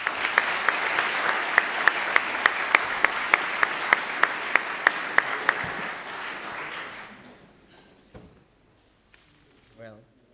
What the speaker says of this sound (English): please help me and welcome with a round of applause Gabriel tonight.